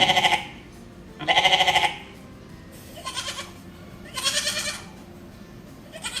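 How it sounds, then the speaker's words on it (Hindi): A goat bleats four times in a row, two strong cries followed by two softer ones, clear and close. "बकरी का मिमियाना"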